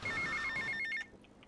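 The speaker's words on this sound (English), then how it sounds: "We're going to take a phone call here." Telephone ringing in the video game GTA Vice City, a steady repeating electronic trill with clear tonal pulses, fairly loud and close, stopping abruptly after about a second with only faint background left.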